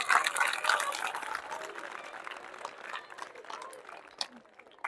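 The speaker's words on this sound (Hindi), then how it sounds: "तालियां कमजोर रहेगी भाई" A crowd applauds at a public talk, starting fairly dense and strong, then thinning into scattered, weaker claps that fade over a few seconds.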